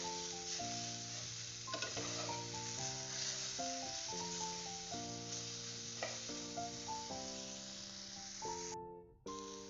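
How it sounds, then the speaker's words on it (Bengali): Drumsticks frying in a pan with a little chilli powder for pickle give a steady soft sizzle beneath continuous background music. "অল্প লঙ্কা গুঁড়ো দিয়ে তাকে এপিট ওপিট করে একটু ভেজে নিচ্ছি"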